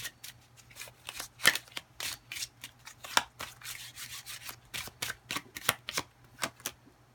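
Playing cards shuffled and handled at close range make a quick run of papery riffles and slaps in an uneven rhythm, with short pauses between bursts and no talking.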